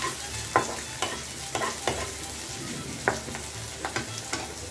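Onion and chili sauté in hot oil in a pan, a soft continuous sizzle marked by regular sharp scrapes and taps of a stirring spoon, close by and without talk.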